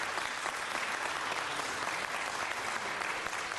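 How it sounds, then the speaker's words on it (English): Steady, dense applause from an audience at a city council meeting, a close, even wash of clapping with no pauses for its full length. "Please have an applause for the CEO of Azteca America"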